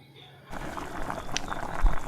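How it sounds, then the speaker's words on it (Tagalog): After a brief quiet moment, first-press coconut milk is poured into a hot pan of sautéed garlic and onion, a soft liquid rush and gentle sizzle building steadily, close by. "At next yung unang gata ng nyog."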